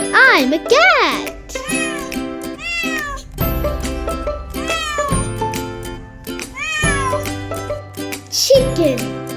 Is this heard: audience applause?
no